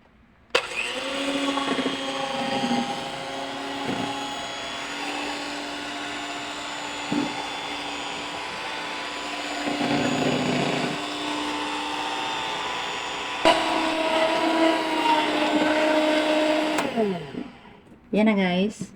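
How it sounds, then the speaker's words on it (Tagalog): An electric hand mixer beating puto pao batter runs with a steady motor whir for most of the stretch, its pitch shifting as it churns; the whine drops and cuts out near the end. "igamitan natin po ng mixer guys para mag-mix siya ng husto"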